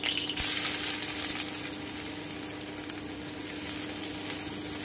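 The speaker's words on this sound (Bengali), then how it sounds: "আমি একটু ভেজে নিচ্ছি।" Chopped onions fry in hot oil, a steady close sizzle and crackle with a brief stirring clatter near the start, with no talking.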